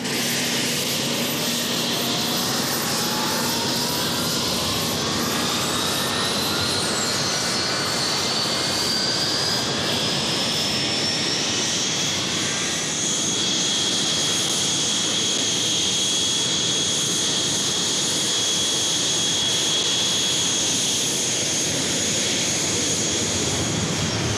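Argentine Navy jet aircraft taking off from an airfield in southern Argentina, a loud sustained engine roar with rising and sweeping whine tones that carries through without pause.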